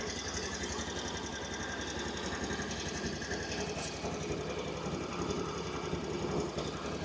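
A 2020 Yamaha Grand Filano Hybrid scooter engine idles steadily and close by, its rapid, even putter holding constant throughout with no change in pace.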